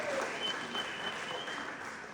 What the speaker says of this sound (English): I think y'all need to give a round of applause for Cal